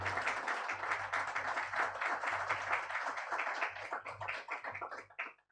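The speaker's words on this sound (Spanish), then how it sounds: "renovamos nuestro aplauso a los expositores" A conference audience applauds the speakers with dense, steady clapping from many hands that holds for several seconds and then tapers off, at moderate distance in a hall.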